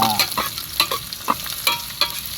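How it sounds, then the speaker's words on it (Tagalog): Onion being sautéed in a pan, with a spatula scraping and stirring in quick irregular strokes over a soft sizzle, close and clear with no talking. "Sibuyas. Kulay green po na ito. Gisa natin ng maigi"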